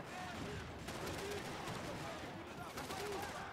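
Rapid overlapping gunfire from the Max Payne 3 video game, a dense continuous barrage of shots lasting throughout, loud and close with a broadband roar and no pauses.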